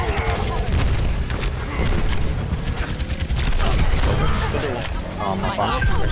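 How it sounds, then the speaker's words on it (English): A huge bomb goes off in a video game, a heavy boom lost in a dense din of shooting and clattering effects while character voices talk over the noise. "Huge bomb."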